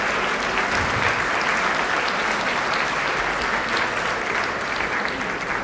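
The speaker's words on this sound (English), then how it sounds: "another round of applause for yet another school" Sustained audience applause at a charity gala dinner fills the room, a dense, even wash of many hands clapping throughout with no speech over it.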